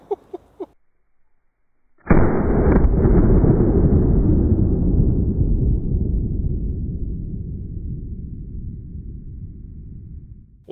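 A single loud .45 Long Colt revolver shot fired outdoors, a sharp close blast followed by a long rolling echo that fades over several seconds; a few faint knocks come just before it.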